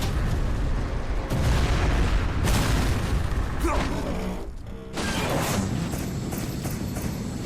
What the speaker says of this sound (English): Hope those explosions don't damage the parts I want.